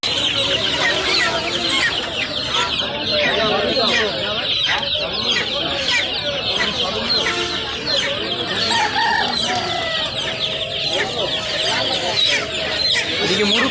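Chickens cluck and a rooster crows in a crowded poultry market stall at Tongi bazaar in Dhaka, with steady, close, overlapping fowl calls and market voices mixed in throughout.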